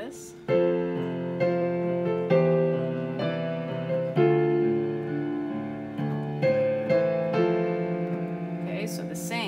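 Piano playing a song with both hands together, a steady sequence of struck chords and bass notes, each ringing and decaying, no talk.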